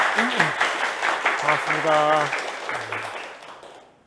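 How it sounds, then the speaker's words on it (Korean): A university lecture audience claps to welcome a guest speaker. The steady applause runs under a speaker's voice and fades away at the end. "그러면 큰 박수로 송성근 대표님을 환영해 주시기 바랍니다"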